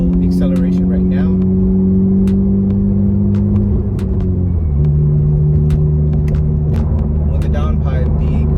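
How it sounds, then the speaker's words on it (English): Honda Civic Type R with a loud downpipe exhaust accelerating on a drive, a steady droning engine tone that drops in pitch as it shifts midway, with occasional sharp ticks and a voice talking over it throughout. "With the downpipe, the car is super loud right now"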